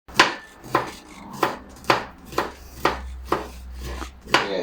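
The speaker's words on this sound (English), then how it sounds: "So start off with cutting up some garlic." A knife chopping garlic on a board, about nine crisp, evenly spaced cuts at a steady rhythm, close and clear with no talk.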